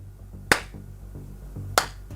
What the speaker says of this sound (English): I will clap in my hands